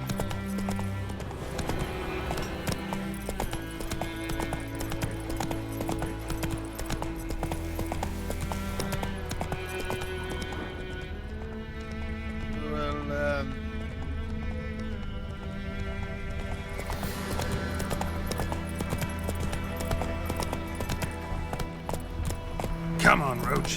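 The horse Roach gallops in The Witcher 3 with a loud, rapid clip-clop of hooves that continues throughout, a brief whinny, and game music and a voice speaking over it.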